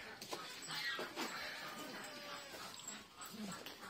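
A dog whimpers and whines in short, high-pitched bursts, fairly close, with some background noise in between.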